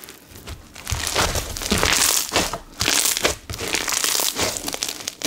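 Crispy slime is squeezed and crunched by hand, giving dense crackling and crinkling bursts in an uneven rhythm, loud and close, with no voices.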